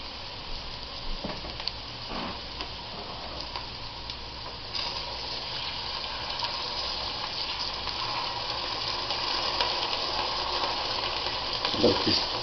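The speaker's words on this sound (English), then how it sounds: "now I'm going to add water to there" Water poured into a pot of ragu with vegetables, a steady rushing gush with a sizzling wash that carries on for several seconds, close and fairly loud, with faint talk underneath.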